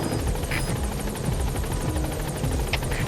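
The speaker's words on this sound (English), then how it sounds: "Support helicopter has arrived." A support helicopter in Metal Gear Solid V hovers at the landing zone, its rotor thumping in a rapid steady pulse over a loud whirring engine drone, with a couple of brief electronic beeps.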